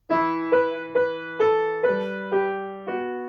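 Slow, gentle piano notes sound one after another at an even, unhurried pace, each ringing softly and fading before the next.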